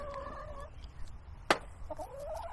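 Chickens returning to a yard cluck and call in short bursts, fairly close, with a sharp click midway and a brief gobbling-like call near the end.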